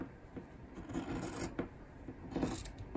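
Scissors cutting through denim fabric for a dress refashion, close rasping snips in an irregular run of short cuts, with no talking.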